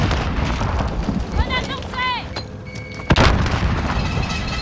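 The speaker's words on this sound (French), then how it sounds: "Grenade à fragmentation envoyée." A fragmentation grenade explodes with a heavy boom near the end, amid game-like effects, chirping tones and a voice speaking over the noise.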